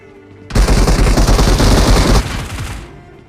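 Rapid automatic gunfire in the mobile shooter BGMI, a loud close burst of fast shots lasting under two seconds, followed by a fading echoing tail.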